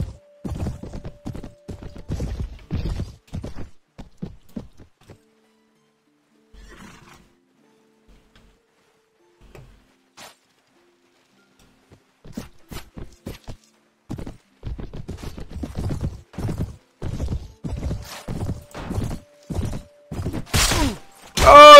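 A horse in the game Mount and Blade: Warband gallops in bursts of rhythmic hoofbeats, pauses, then charges again, ending with a loud, sharp neigh up close.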